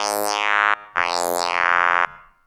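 Two synthetic vowel-like tones from a Waldorf Blofeld synthesizer, a short held note then a longer one, each bright and buzzy with a sweeping formant that shifts the vowel colour, close and loud, clean with no voices.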